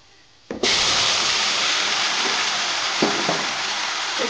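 Vegetable dal poured into a hot pan with oil left from frying fish bursts into a loud, steady sizzle that starts abruptly and holds, with a couple of faint clinks of stirring partway through.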